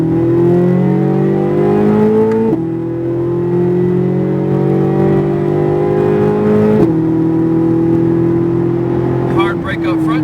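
Car engine accelerating hard after braking and turning, its loud, close tone rising steadily in pitch. A gear change drops the pitch twice before it climbs again, and a voice talks over it near the end.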